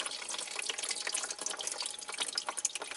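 Oil running out of the drain of a scrapyard water pump, a steady trickling, splashing pour with fine drip-like patter, close and continuous for a few seconds.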